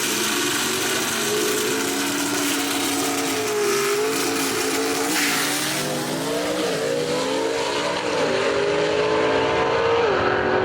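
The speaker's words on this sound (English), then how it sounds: "Daniel Haynes, the Patriot, driving away in that right-hand lane" Gasser drag race cars roar down the track at a Southeast Gassers event in Knoxville, a loud sustained engine howl with the pitch climbing through gear changes, heard from nearby with no voices.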